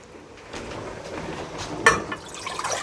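Two cups of filtered water pour into a pot in a home kitchen for canning sweet pickled peppers and onions, a steady close splashing trickle with a brief metallic clink midway.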